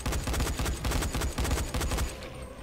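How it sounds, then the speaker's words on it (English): Rapid bursts of gunfire ring out in the video game Dying Light, a dense run of sharp shots in quick succession that fades at the end, with no talking. "I will keep shooting him till he dies."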